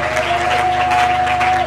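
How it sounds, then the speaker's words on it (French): A church congregation claps in unison for the reading of the word of God, a continuous, fairly loud applause with a faint sustained tone running beneath it. "Acclamons la parole de Dieu"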